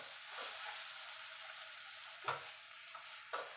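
Sabudana and sugar stirred in a pan: a soft, steady hiss with a few light scrapes of the spoon against the pan, close and quiet.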